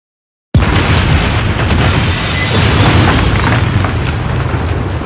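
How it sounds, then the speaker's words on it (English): A loud explosion sound effect for animated 3D titles in BluffTitler bursts in after a brief silence, then roars on as a sustained, dense rumble with no fading. "Do not buy BluffTitler if you're afraid of your titles exploding off the screen."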